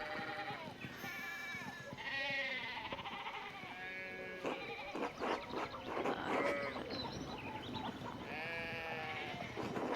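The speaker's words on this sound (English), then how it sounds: "One of the fence rails fell and the sheep started hopping it." Sheep bleat repeatedly in the video game Pentiment, several overlapping wavering calls from a farm flock near a fallen fence rail, fairly close and continuous with slight background ambience.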